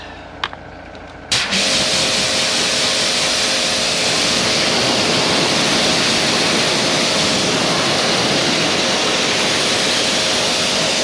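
Water sprays steadily over a car during a final rinse after washing, a loud, continuous hiss and splatter that starts abruptly after a brief quiet moment and runs unbroken to the end.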